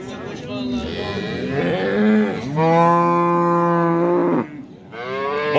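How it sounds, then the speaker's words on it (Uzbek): Cattle at a livestock market in Buvayda district, Fergana region, give several loud, drawn-out moos close by, one long low call holding steady, over crowd and market bustle with people talking. "Ko'rsatib o'tiramiz bozordagi sigirlar bugun"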